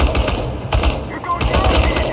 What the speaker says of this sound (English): one of them has a shotgun, I think.